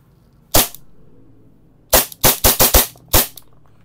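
Novritsch SSP2 Hi-Capa airsoft pistol firing, one sharp close crack, a pause, then a quick string of four shots and a final one, loud and alone.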